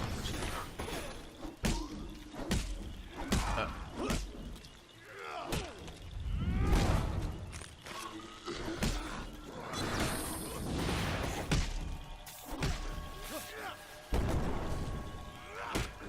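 Bombs exploding in the action card game Hand of Fate 2, a series of heavy thuds and crashing bursts at irregular intervals amid swishes and combat clatter, with someone talking at times.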